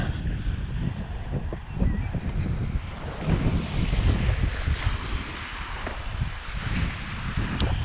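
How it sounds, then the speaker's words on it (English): Heavy wind on a beach buffets the microphone in loud, gusty rumbles, with the sea's surf or rushing water in the background. "Talking about wind, you probably can't hear me again."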